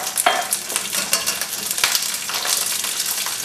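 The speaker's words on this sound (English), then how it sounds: "Now you want to cook the garlic cloves about 5 minutes or so until they develop a tinge of brown" Garlic cloves frying in hot oil with popped mustard seeds for a spicy Indian garlic pickle: a dense, close sizzle with crackles and spoon-stirring scrapes throughout, no speech.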